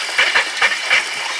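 A garden hose bibb sputtering air and water after the line was drained, irregular hissing gushes and spurts close by in a rough, uneven rhythm.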